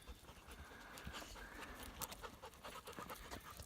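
Hunting dogs panting rapidly during a break by a freshwater pond on an upland bird hunt, faint and steady with soft rustling, no talk.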